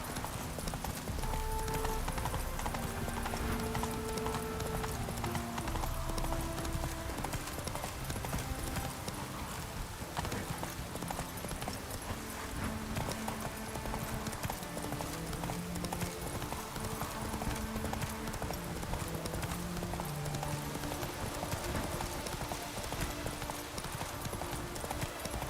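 Roach the horse in The Witcher 3 gallops continuously in a fast, rhythmic clip-clop of hooves, close and loud, with game music layered beneath.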